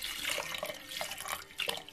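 Water is poured over quinoa and lentils in a pot, splashing and trickling briefly from close by. Nobody speaks.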